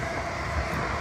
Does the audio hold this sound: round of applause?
no